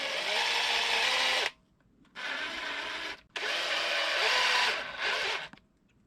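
Electric drill whirring as it bores into the upper arm of a Redcat Kaiju RC truck, running in three close, steady bursts with brief pauses between them.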